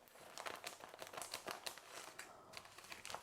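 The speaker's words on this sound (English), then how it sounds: "I pick the most rubbish pair of scissors to cut my stuff" Crinkly plastic crackling as scissors snip and crumple a mylar food-storage bag, a quick series of sharp rustles, close up and fairly quiet.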